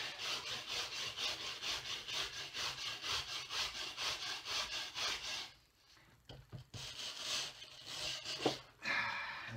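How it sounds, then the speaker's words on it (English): A brush scrubs grime and grit off an axe handle in a quick, steady run of faint scratchy strokes, then slows into a few scattered, uneven swipes after a short pause. "So what I'm going to do now, brush. Covered in grime and grit."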